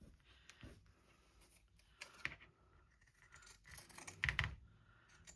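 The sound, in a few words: pinking shears trimming fabric swatches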